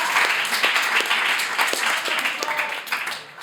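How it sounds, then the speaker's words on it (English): Lively applause from a comedy show audience at a coffee venue, crisp close claps in a thick steady patter that tapers off toward the end. "give a round of applause to our camera crew"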